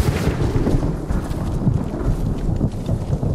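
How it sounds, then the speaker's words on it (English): Loud thunder rumbles in the Ghost of Tsushima video game on a coast, a heavy, sustained low roar with rolling crackles across the whole stretch and no speech. "Loud-ass thunder."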